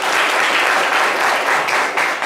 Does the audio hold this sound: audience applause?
yes